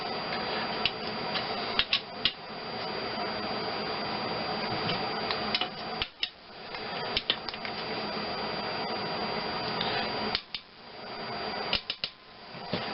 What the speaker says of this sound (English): That click you're hearing is just the bolt friction.